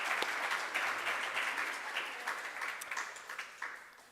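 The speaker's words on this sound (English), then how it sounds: "I think we should give them another round of applause." Audience at a schools quiz semifinal and final applauding together, a sustained wash of clapping that stays fairly even and then thins slightly toward the end, heard from within the hall with no speech over it.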